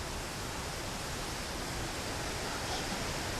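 Steady, dense broadband roar of a waterfall, even and full across the whole stretch with no breaks, loud and enveloping as if standing close to the falling water.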